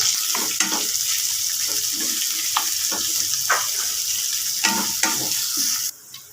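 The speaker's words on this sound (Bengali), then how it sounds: "আমি এবার কেটে রাখা পেঁয়াজটা দিয়ে দিচ্ছি" A steady sizzle of chopped onion frying in a pan, with repeated scraping stirs every half second or so, close by, then the sizzle drops away at the end.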